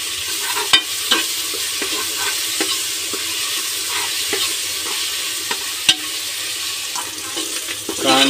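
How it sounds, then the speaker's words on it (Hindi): Ginger garlic paste sizzles in hot oil for a mutton curry while a spoon stirs it, giving a continuous bright hiss broken by scattered scraping clinks against the pan. "अदरक लहसुन पेस्ट उसको भी अच्छी तरह से भून लेंगे।"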